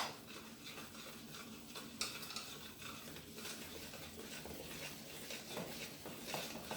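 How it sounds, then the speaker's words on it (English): Flour is stirred into eggless coconut jaggery cake batter with a continuous soft, wet scraping and swishing, quiet and steady with faint spoon clicks against the bowl. "I'll add my flour now. Let's mix everything together."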